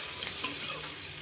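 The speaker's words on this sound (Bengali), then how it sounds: "ওই তেলের মধ্যে পেঁয়াজ কুচি, লঙ্কা কুচি, টমেটো কুচি সব দিয়ে দিলাম" Chopped onion, chili and tomato fry in oil while being stirred, a close, steady sizzling hiss with soft scraping of the spatula, brief and alone.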